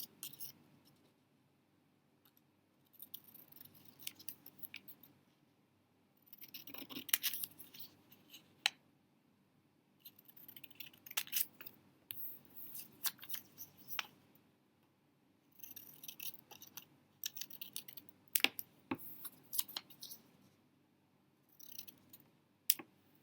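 Scissors snip through sheets of paper to cut apart word scraps, bursts of close, crisp cutting and rustling separated by short quiet pauses, with no voices.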